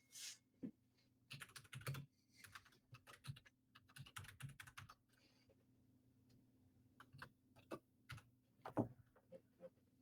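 Computer keyboard typing comes in irregular bursts of quick clicks and taps, close and soft, with pauses between flurries and no talking.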